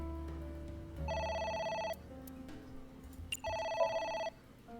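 A telephone rings twice in AI: The Somnium Files, each ring a steady electronic trill lasting about a second, heard over a low background music bed.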